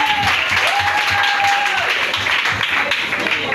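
An audience applauding at a children's church celebration, loud sustained clapping from a crowd with a voice speaking over it.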